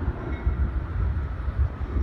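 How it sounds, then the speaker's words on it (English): Amtrak Southwest Chief passenger train number 3 at the Cicero Depot on the BNSF Chicago Sub, bound for Los Angeles, makes a steady, close, low rumble throughout. "This is Amtrak's Southwest Chief Train number 3 at the Cicero Depot here on BNSF Chicago Sub."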